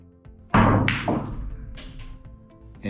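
Pool cue strikes the 1 ball on a billiard table with a sharp close crack, followed by softer clacks as balls collide and roll, then a final knock at the end.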